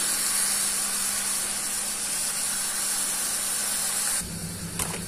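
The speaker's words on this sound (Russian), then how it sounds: "Пока яблочки жарятся" Steady sizzling hiss of apples frying in a pan, fairly loud and continuous, dropping off slightly near the end with a faint clink.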